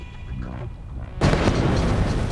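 An explosive charge set off by a lit safety fuse detonates under water with a sudden, dull, muffled boom, then a broad rushing roar of churned water that carries on after the blast.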